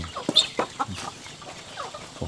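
Several hens clucking in short, uneven bursts from a chicken coop, fairly close, with a busy farmyard background in a remote Thai mountain-valley village and no talking.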